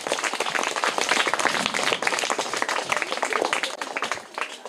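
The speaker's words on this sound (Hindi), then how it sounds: "इनके लिए जोरदार तालियां हो जाए" An audience at a children's quiz event gives a quiz winner a round of dense, steady clapping that carries on for several seconds without a break.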